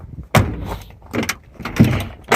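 Three heavy thumping bangs with rattling metal, spaced unevenly, as a damaged, jammed door of a 1978 Mercury Marquis in a junkyard is yanked and jolted hard up close.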